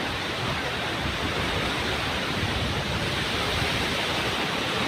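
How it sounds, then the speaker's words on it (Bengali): Big sea waves breaking at Cox's Bazar beach make a steady, dense roar of surf, loud and unbroken throughout, with no distinct individual crashes standing out. "দেখুন কি ঢেউ, কি বড় বড় ঢেউ আসছে, খালি শব্দ আর শব্দ, খালি পানির শব্দ"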